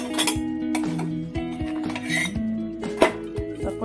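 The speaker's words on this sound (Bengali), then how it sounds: "আর আমি এই কড়াইটাকে পুরো উল্টে নিয়ে সেঁকতে থাকবো" A karai wok being turned and flipped over a stove while kulcha flatbread is toasted inside, giving several metallic scrapes and clinks over a steady kitchen hum, close and moderately loud.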